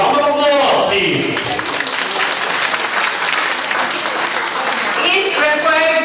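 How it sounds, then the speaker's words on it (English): Sustained applause from an audience at a coronation night celebration, loud and steady throughout with dense clapping from a large crowd. "A big round of applause, please."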